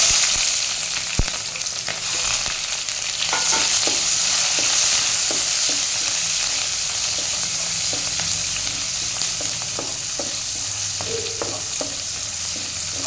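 Onions frying in a pan for a fish curry: a loud, continuous hissing sizzle with repeated stirring scrapes and taps throughout, close up, no speech.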